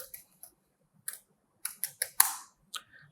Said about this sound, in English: If you are using Windows, by typing command cmd.